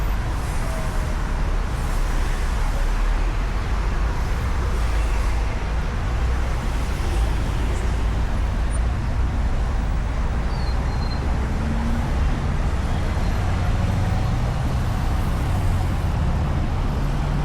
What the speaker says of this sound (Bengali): মানে এতটা ট্রাফিক, এই ট্রাফিকের মধ্যে অর্ডার নিয়ে গেলে তো মুশকিল।